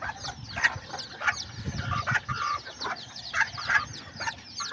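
A mother hen with her six newly hatched chicks, soft clucking close by mixed with a busy chorus of high, rapid peeping from the chicks, continuous and moderately quiet.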